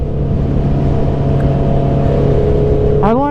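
2019 Honda CB650R motorcycle engine idling steadily with a close, even hum, then sharply revving up in a rising whine at the end.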